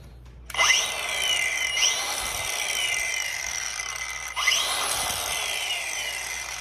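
A Milwaukee M18 Fuel 4 1/2 inch cordless angle grinder spins up sharply and runs at a steady high whine, briefly dips, then revs up again after a short pause, loud and close with no talking.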